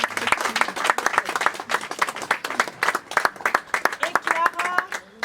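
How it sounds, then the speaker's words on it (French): A crowd breaks into steady applause, many hands clapping densely for several seconds, with a few voices mixed in near the end. "Est-ce qu'on peut applaudir?"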